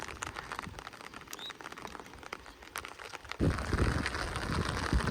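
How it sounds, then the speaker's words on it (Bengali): Light rain patters on a cloud-covered wetland where fishing nets are set, with faint scattered drops that grow into a denser, louder patter halfway through. "বৃষ্টি হচ্ছে টাপুর টুপুর করে।"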